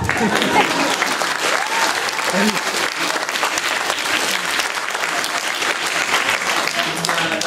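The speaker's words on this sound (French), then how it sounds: "Et elles méritent aussi vos applaudissements." A theatre audience applauds through a school stage production of Jean Anouilh's L'Alouette, a dense, steady wash of many hands clapping at close range, with some voices mixed in.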